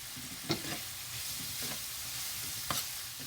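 Okra cooking in a pot for a baked fish meal gives a steady close sizzle and bubbling hiss throughout, with a few sharp scraping clinks of stirring standing out above it.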